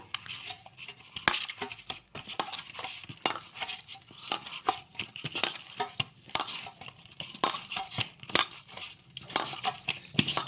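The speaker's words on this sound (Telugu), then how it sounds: "కొంచెం ఆయిల్ అయితే వేసేసుకొని మళ్ళీ ఒకసారి కలిపేసుకుందాము" Curd puri dough being mixed by hand with a little oil, a run of close, irregular squishing and scraping knocks.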